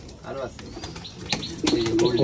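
Pigeons coo softly nearby while people talk over them, the low throaty calls repeating under the voices. The birds are long-flying pigeons kept for endurance flights.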